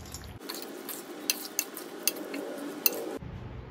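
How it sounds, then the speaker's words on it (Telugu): A spoon stirs fried onions and ghee into jackfruit biryani masala in a pot, a soft steady scraping and mixing with a few light metallic clinks of the spoon against the vessel. "మనం ముందుగా వేయించుకున్న ఫ్రైడ్ ఆనియన్స్ అండ్ నెయ్యి వీటన్నిటిని మనం బాగా మిక్స్ చేసేద్దాము"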